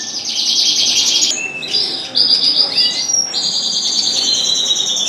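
A room full of caged finches and canaries in a home aviary birdroom chirps and trills continuously, overlapping bright songs filling the space, close and lively, with no talking.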